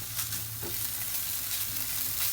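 Minced pork frying with onion and garlic in a hot pan, giving a continuous loud sizzle with a faint stir partway through, close up and without talk.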